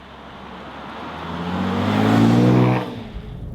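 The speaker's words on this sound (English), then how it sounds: "Driving part, Jaguar F-PACE V6S, the petrol S version." A petrol Jaguar F-PACE S V6 SUV with 380 horsepower accelerates hard, its engine note rising steadily and growing louder for a few seconds before easing off abruptly, with no voices over it.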